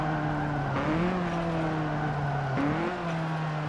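Ford Focus RS in Forza Motorsport 7 with its tires squealing under braking: a sustained tonal screech over the engine drone, pitch bending twice as the car slides, loud and close with no talk.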